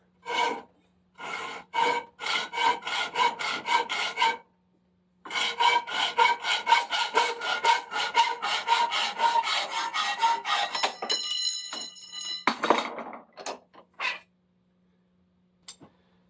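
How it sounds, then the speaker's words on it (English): A hacksaw cuts through pipe in steady, close back-and-forth rasping strokes, with two long runs of sawing separated by brief pauses, ending in a few scraping clinks and handling noises. "a hacksaw is not going to give you a smooth cut"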